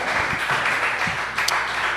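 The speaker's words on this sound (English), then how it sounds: "Clap it up for yourselves." A small audience at a live music venue claps continuously in a dense, even patter of many hands throughout, fairly close, with a couple of brief louder claps standing out.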